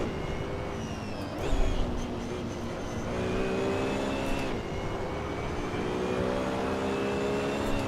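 Steady droning engine note from a racing car in Assetto Corsa, holding a sustained, slightly whiny tone with small pitch shifts through gear changes and a brief thump, heard alone at moderate loudness.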